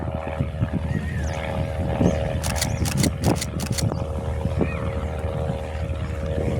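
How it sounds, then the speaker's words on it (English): A Piper light aircraft doing a touch-and-go at Jandakot airport drones steadily at a distance, its propeller engine holding a constant hum with a few brief gusty bursts partway through and no voices. "The Piper now doing another bounce and go."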